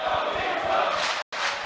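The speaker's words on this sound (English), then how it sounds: "Yeah, that's the crowd sound." A large arena crowd at a Dota 2 esports playoff match at the Arlington Major roars steadily in a loud, sustained wash, broken by one brief cut near the end.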